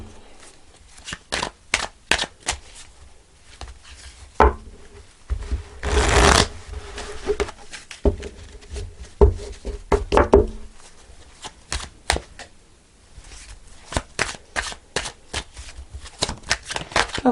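Tarot and oracle cards being shuffled by hand for a reading: a steady run of soft riffling slaps and cuts, close and fairly loud, with a few heavier bursts and no talking.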